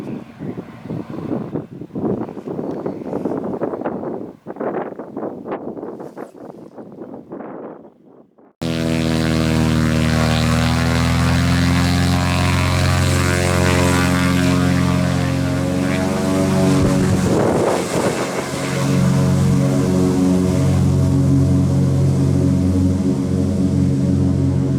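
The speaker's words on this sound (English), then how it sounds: "This is a Cessna 172 XP with stall kit and VGs." A Cessna 172 XP propeller engine roars loudly and steadily at close range after a stretch of windy, gusty noise, with a brief surge partway through.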